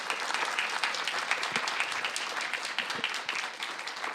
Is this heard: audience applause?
yes